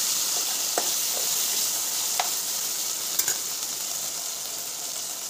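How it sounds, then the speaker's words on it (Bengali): Cut potatoes fry in oil for a Bengali rui fish curry, giving a steady loud hiss with a handful of faint utensil clicks spaced apart. "আলুটাকে ভেজে নেবো লাল করে"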